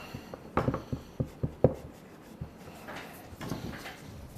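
Pen writing on paper at close range, a string of short soft scratches and taps in uneven rhythm, then fainter rustling, fairly quiet.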